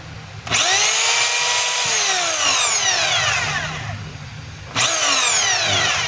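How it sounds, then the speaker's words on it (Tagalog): A DeWalt D25032 rotary hammer spins up with a loud whine that sweeps downward as it runs, cuts out, then starts again in a second burst, close and alone without talk. "Yan po yung drill."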